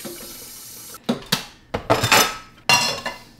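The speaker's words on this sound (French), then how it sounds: "Je vais aussi tout clairer la vaisselle." Dishes and cutlery clatter and clink in a home kitchen as they are cleared away, several sharp bursts of clinking with water running at a sink nearby and no talk.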